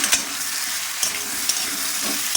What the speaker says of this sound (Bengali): পেঁয়াজ ভাজা হয়ে এসছে, এর মধ্যে আমি 3 পিস আলু দিয়ে দিলাম